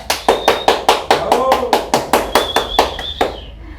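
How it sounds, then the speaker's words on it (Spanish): Clapping to welcome a guest at a talk on psychosocial trauma: loud, close, evenly spaced claps in a steady rhythm, about a dozen in a row, with a high whoop or whistle riding over them. "¡Un aplauso para la invitada!"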